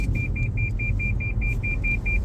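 A car's collision-warning alert during automatic braking, a rapid, regular series of about twenty short high beeps over a steady low road rumble inside the cabin.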